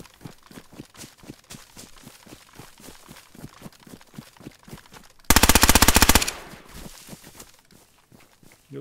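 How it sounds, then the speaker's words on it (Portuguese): Rapid SKS rifle gunfire in the video game DayZ: a long run of evenly spaced shots, then a loud, dense burst of near fire lasting about a second before quieter shots resume. "o cara tá atirando muito aqui de SKS"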